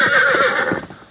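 A horse whinnies loudly and close in a 1940s Lone Ranger radio drama, one long descending neigh with shaky vibrato, a few hoof clops beneath, then fading out.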